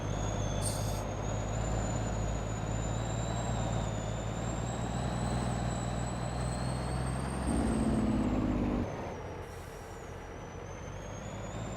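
A heavy truck engine in Farming Simulator 22 drones steadily with a high whine, then a brief hiss of air brakes before the rumble drops lower.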